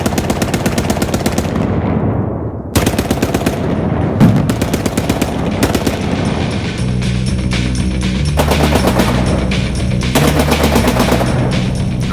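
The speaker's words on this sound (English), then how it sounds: "There's a machine gun, simulated machine gun in that window." Simulated machine gun fire at an attraction rattles in loud, rapid continuous bursts with brief breaks, nearby and alone without talk.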